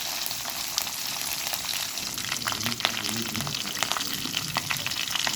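Curry leaves, crushed garlic and dried chillies sauté in hot oil in a pan, crackling in a steady, close, continuous sizzle with small popping ticks scattered throughout.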